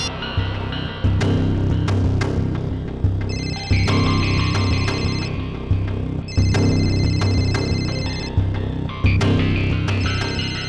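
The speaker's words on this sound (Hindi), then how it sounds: "और ये जो बेल बज रही है," A telephone bell rings in repeated electronic bursts, loud and close, over a steady low background drone, with short pauses between the rings.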